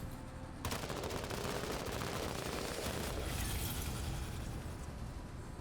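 Regular gunfire in the tactical game Menace, a dense continuous rattle of rapid shots with crackling impacts starting after a short quiet lead-in and running steadily, fairly loud.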